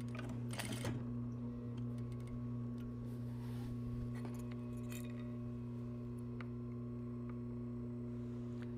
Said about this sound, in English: I want to continue stitching in the ditch